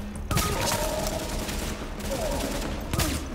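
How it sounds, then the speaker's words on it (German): An enemy in The Division on PS4 firing wildly, with sharp gunshots and bursts of fusillade cutting through a busy game soundscape, loud and close, a few heavy reports standing out. "Der schießt auch wild durch die Gegend."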